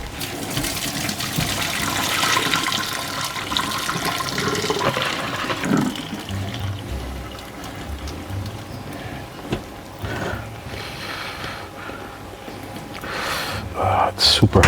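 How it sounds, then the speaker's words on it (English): Very hot liquid is poured out to cool at a Samoan Sunday cooking session, a steady rushing, splashing stream that gradually eases, with people talking over it. "so I need to pour it out so that we can cool it down"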